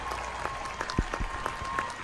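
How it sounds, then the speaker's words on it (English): Brief canned applause burst from a soundboard, a thin steady clapping texture with a few sharper low thumps mixed in, fairly faint and close. "trying to give you the clap thing"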